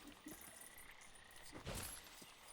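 Frogs croaking in a video game, a few soft croaks scattered among faint game ambience and a brief burst of noise, quiet throughout with no talk.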